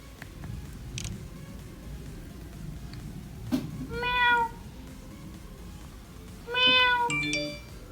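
A person imitates a cat, giving two clear meows a few seconds apart, each a rising then falling tone, over a quiet room hum with no talk.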